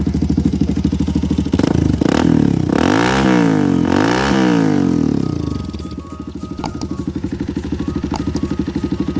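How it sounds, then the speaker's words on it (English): A motorcycle with the exhaust baffle removed revs hard, loud and close, its throaty engine note swelling through several sharp blips before settling back into a steady, rumbling idle. "I've taken the baffle out of the exhaust, as you can hear."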